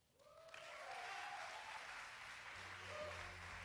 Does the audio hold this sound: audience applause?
yes